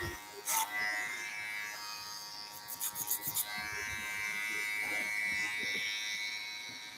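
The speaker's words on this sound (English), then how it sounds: "Just a little clipper over comb just to clean up that area." Electric hair clippers run clipper-over-comb to tidy a haircut's transition area, a steady close buzz throughout with brief bursts of higher snipping texture, plus some quiet background noise.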